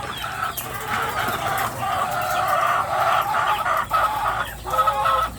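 Laying hens in a flock cluck steadily and close by, with occasional rooster-like crowing calls rising over the continuous busy chatter of the poultry house.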